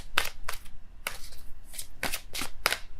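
Tarot cards are shuffled and drawn close up, a series of about seven quick riffling, papery swishes in an uneven rhythm, with no talk over them.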